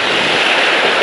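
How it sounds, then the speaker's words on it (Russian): Strong sea waves breaking on the beach at Adler in Sochi, a loud continuous roar of surf with wind across the microphone and no gaps. "волна сильная."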